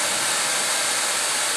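A 2003 Mercury Sable engine idles steadily just after its belt tensioner was replaced, producing an even, loud broadband whir with no squeal, close up and alone without voices.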